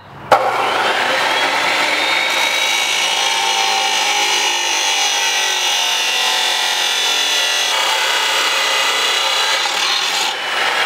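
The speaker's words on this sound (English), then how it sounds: "we're gonna cut the first pieces of the flat stock to mount to the engine" A harsh, continuous grinding screech of metal flat stock being cut for a go-kart engine mount runs steadily for about ten seconds, loud and close, with no pauses.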